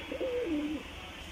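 A pigeon coos once in a short rolling call, close and clear over a faint background hum, with no voices.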